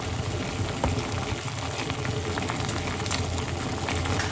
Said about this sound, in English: let that simmer for a couple of minutes